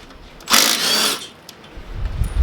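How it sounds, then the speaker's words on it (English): An impact wrench spins out the PTO clutch bolt threaded into a mower engine's crankshaft, one loud whirring burst of about three-quarters of a second up close, followed by quieter shop noise. "Now I got to pull this bolt out that actually threads into the crank, and this is something I can"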